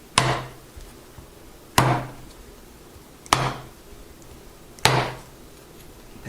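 A young coconut is whacked open with four sharp, loud, evenly spaced knocks, each a hard woody impact that rings out briefly before silence.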